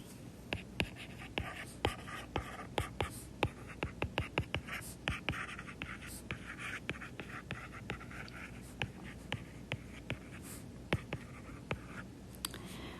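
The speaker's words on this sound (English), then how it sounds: "Let's write this out." A pen or marker writes out a math problem in close, quick scratchy strokes and sharp taps, steady and rhythmic over about thirteen seconds, with no talking.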